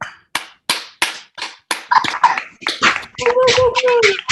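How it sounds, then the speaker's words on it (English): Participants unmuted on an online poetry reading clap, starting as single, evenly spaced sharp claps from one person, then overlapping with more clapping and cheering voices toward the end. "Please unmute and applaud all of the great readers."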